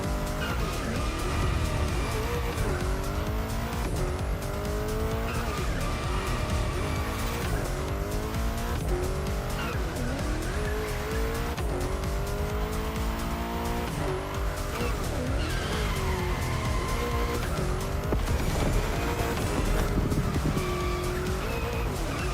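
A car drifts through bends in The Crew Motorfest, engine revving and falling as the throttle is released and reapplied, with long tire squeals and skids running continuously and loudly throughout.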